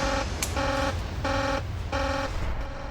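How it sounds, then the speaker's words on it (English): A nuclear reactor control room alarm at the Chernobyl plant pulses in four repeated tonal bursts, loud and steady over a constant background hum. "He's all too used to alarms like this."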